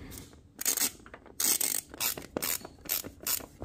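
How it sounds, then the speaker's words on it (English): A ratchet backs out two 10 mm seat bolts on a TW200 motorcycle, with several loud, close bursts of rapid clicking separated by short pauses and no speech. "So these two bolts right here got to come out."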